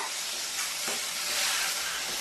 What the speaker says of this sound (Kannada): ಶುಂಠಿ ಬೆಳ್ಳುಳ್ಳಿ ಪೇಸ್ಟ್ ಕೂಡ ಸ್ವಲ್ಪ ಫ್ರೈ ಆಗಬೇಕು